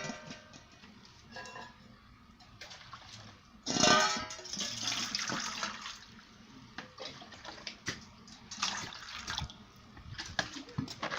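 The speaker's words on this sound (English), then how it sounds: "and I'll put new water." Water is poured and sloshed in a bowl to wash ingredients for the Nigerian dish Ekpang Nkukwo, beginning with a loud splashing pour and followed by smaller splashes and drips, close by.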